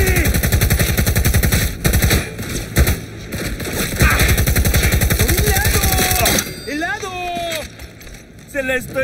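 A firefight in Cyberpunk 2077 crackles with rapid, loud bursts of automatic gunfire, dense and continuous at first, then thinning into scattered shots while electronic whines and a voice come through toward the end.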